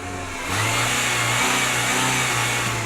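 A Renault Clio 172 Sport engine runs on LPG at a close, steady idle with a low, even hum. There is a slight rise in revs early on, and no voices are heard.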